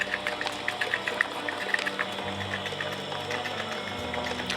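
Electric mixer whisk beating cream cheese with granulated sugar, a steady mechanical whir with rattling clicks that shifts to a higher speed partway through, close and moderately loud with no talking.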